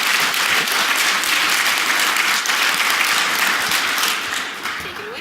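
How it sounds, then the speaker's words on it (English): A conference audience gives a warm round of applause before a presentation, a steady, loud wash of clapping that fades slightly toward the end. "please give them a warm round of applause"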